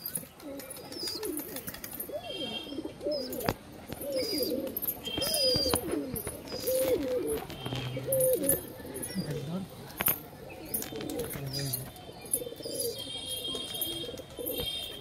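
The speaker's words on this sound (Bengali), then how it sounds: "পায়রাগুলো দেখুন শুধু।" Pigeons, including a pair of kalodom birds, coo repeatedly in rising and falling calls at close range, with occasional chirps and a voice speaking intermittently over them.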